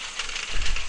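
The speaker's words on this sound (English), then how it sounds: "I'm going to disconnect injector number 3 of the engine" A rough, uneven engine running close up with fuel injector number 3 disconnected, its noisy roar stumbling and surging slightly as that cylinder misfires.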